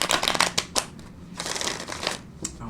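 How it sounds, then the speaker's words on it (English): A deck of tarot cards is riffled and shuffled several times in quick bursts, crisp fluttering rattles close by with short pauses between. "I'm going to put one more shuffle or rifle on these."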